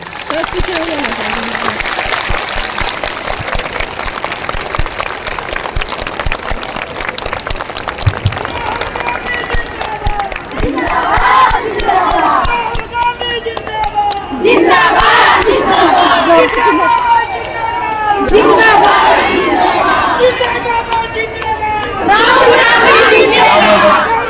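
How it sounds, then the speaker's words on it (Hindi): Large crowd at a political rally with a politician, addressing tribal issues of water, forest and land, applauding and cheering in loud sustained bursts, with shouts and chatter, rising in waves after a speaker's voice over a PA. "इतनी जोरदार तालियां बजनी चाहिए।"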